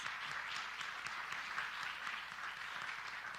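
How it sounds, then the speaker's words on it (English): Steady applause from an audience honoring award recipients at a community excellence awards ceremony, dense even clapping sustained throughout at moderate distance with no voices. "Let's give them a round of applause."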